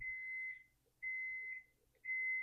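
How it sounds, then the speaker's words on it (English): Three long, evenly spaced electronic beeps from an oven signalling it has preheated, each about half a second, ring out clearly over near silence. "that beeping noise is my oven. It just came up to temperature"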